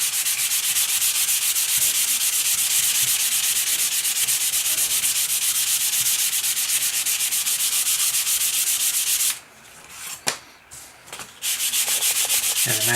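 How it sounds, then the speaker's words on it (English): Balsa wood being sanded by hand with 400 grit sandpaper, a close, steady rasping rub that runs almost unbroken, then drops away for about two seconds near the end with a few light knocks before the sanding resumes. "this is 400, and again we're just going over it just to make them a little smoother, so you can hear the difference a little bit."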